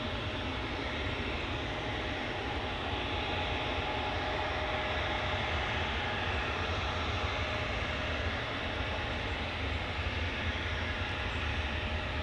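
A Ryanair airplane's jet engines roar in a steady, broad, even rumble that holds constant throughout, moderately distant, with no talking.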